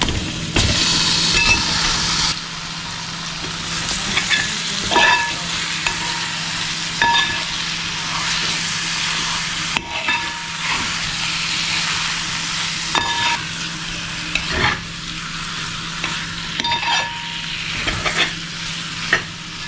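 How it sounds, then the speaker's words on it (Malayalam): Marinated chicken pieces fry with onions in a pan for Kerala-style chicken varattiyathu, giving a loud, close, continuous sizzle. Scrapes and knocks from regular stirring break through the hiss. No one speaks. "അപ്പോൾ ഇതിലേക്ക് നമ്മൾ മാരിനേറ്റ് ചെയ്ത് വെച്ചിട്ടുള്ള ചിക്കൻ്റെ പീസുകൾ ഇട്ട് കൊടുക്കുകയാണ്"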